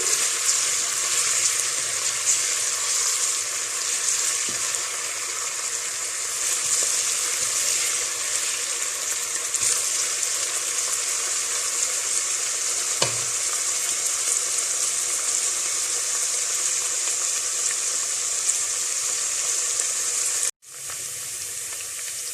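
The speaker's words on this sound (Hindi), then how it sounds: "इसको हमने हल्का ब्राउन होने तक फ्राई करना है" Steady, close sizzling of garlic and ginger paste frying in hot oil for mutton karahi, with a faint clink or stir now and then and no talking.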